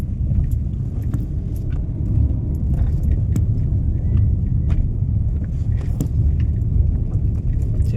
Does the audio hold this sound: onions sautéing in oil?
no